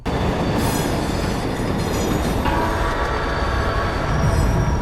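A train rolls past in a Daredevil movie scene, a continuous loud rumble of wheels on rails with metallic squeal layered over it, close and steady throughout.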